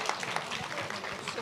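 Audience applause at the final of a 2024 school olympiad: a brief burst of continuous clapping from a seated crowd, moderately loud and diffuse.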